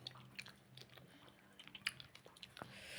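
Someone chews food close to the microphone with soft, wet, irregular mouth sounds and small bites. A faint low hum runs underneath.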